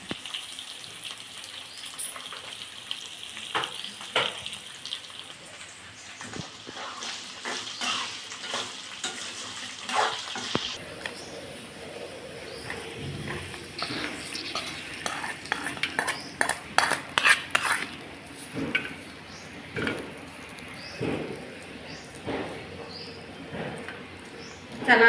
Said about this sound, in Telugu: కొంచెం పసుపు తాలింపులో వేసేసుకోవాలి.